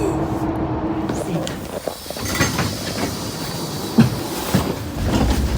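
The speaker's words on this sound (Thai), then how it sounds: "รถไฟใกล้ จะมาถึงที่สถานีแล้วค่ะ" A train arriving at a station rumbles and clatters steadily nearby, with rail noise and brief squeals, while people talk over it.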